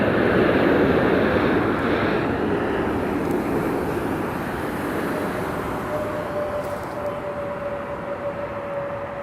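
A Spirit Airlines airliner at Las Vegas Harry Reid International Airport produces a loud, steady jet roar that slowly fades, with a thin engine whine rising partway through.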